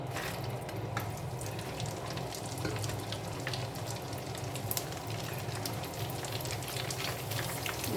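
Pork skin for Thai pork cracklings frying in hot oil, a dense, crackling sizzle with rapid popping bursts throughout, steady and close, with no talking.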